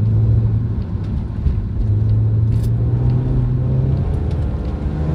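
BMW M3 engine on a wet mountain road, heard from inside: loud continuous rumble as the car accelerates and eases off, with engine tone rising and falling.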